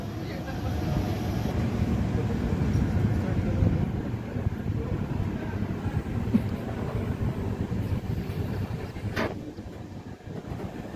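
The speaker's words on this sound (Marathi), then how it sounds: "5 मिनिटांनी लगेच कुरुडवाडी स्टेशनवरून आपली ट्रेन रवाना झालेली आहे पुढच्या प्रवासासाठी" An express train with LHB coaches pulls away from Kurduwadi station, a steady rumbling roar with wind buffeting heard from inside, continuous and fairly loud, with a brief high squeal near the end.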